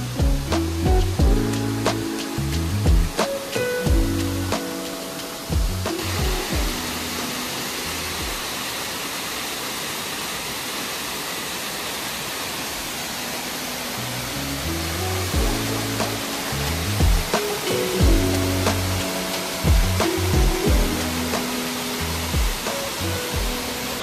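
The Sitakund waterfall in Mayurbhanj pours over rocks with a steady, broad rushing roar. A rhythmic tonal layer sits on top of it at the start and again near the end.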